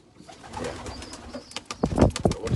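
Domestic racing pigeon cooing in a loft, soft repeated coos that build in loudness toward the end, with some rustling and other bird calls around it, no talking.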